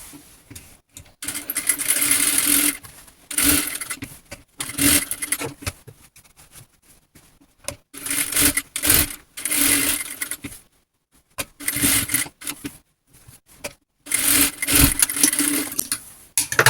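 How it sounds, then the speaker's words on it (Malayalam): A sewing machine stitches the lining of a silk pavada skirt, straight seams and a curve around the neckline, in loud, steady whirring runs of a few seconds each, separated by short pauses. "നേരെ ഇതുപോലെ സ്ട്രെയിറ്റ് ആയിട്ട് സ്റ്റിച്ച് ചെയ്തിട്ട് നെക്ക് മൊത്തം റൗണ്ട് ചെയ്ത് സ്റ്റിച്ച് ചെയ്തെടുക്കുക."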